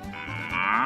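A cartoonish cow moo from the Moo Moo Meadows course of the Mario Kart 8 Deluxe video game, one drawn-out call that rises and swells louder toward its end, heard alone.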